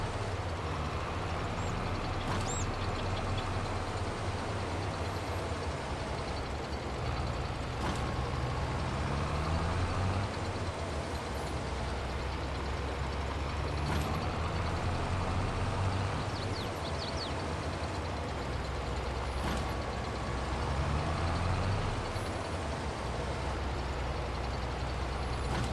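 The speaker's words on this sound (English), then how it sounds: "I'm going to pick up the stacks with the autoloader" An autoloader bale trailer picking up straw bale stacks in Farming Simulator 22, a steady loud engine drone with periodic hissing, clanking pickup sounds every few seconds, and no talking.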